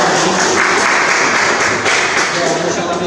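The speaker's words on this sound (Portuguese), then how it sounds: "eu gostaria de uma salva de palmas para ela." A round of applause fills the space, dense and steady at fairly close range, holding without a break for about three seconds.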